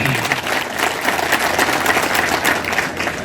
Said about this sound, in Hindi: इनके लिए एक बार जोरदार तालियां करें, जोरदार तालियां करें